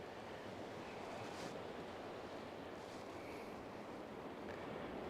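Surf washing onto the beach at Praia de Lourido near Muxía on Galicia's Costa da Morte, a continuous broad roar of waves with some wind noise against the microphone, fairly faint and with no voices.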